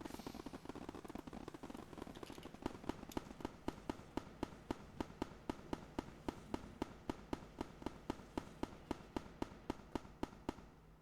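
Rapid regular bursts of fireworks in the video game Build A Boat, a steady barrage of sharp pops roughly four per second after a dense crackling start, loud and continuous with no talking.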